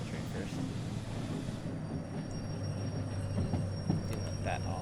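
A train in the Derail Valley railway simulator slows to a stop with a steady low rumbling engine drone and faint metallic clanks, moderately loud and continuous throughout.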